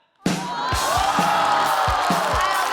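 A stand-up comedy studio audience bursts into sudden loud cheering and applause, whoops and yells over clapping with heavy thuds and a rising roar that stays sustained.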